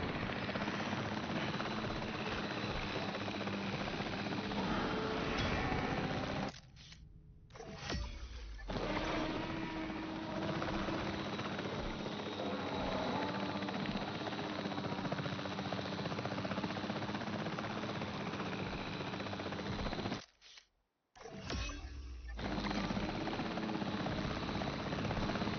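Helicopter under direct control in the game Jurassic World Evolution 3, a steady whirring rotor and engine drone held at an even level, cutting out briefly twice before resuming.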